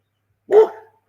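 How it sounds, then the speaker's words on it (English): A single short, close bark from Sandy the dog, loud and clear against silence. "You don't have to bark at people."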